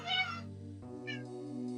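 Cats in Old School RuneScape let out two clear, close meows, one short and bright and a second longer, rising cry, over a quiet sustained in-game background tone.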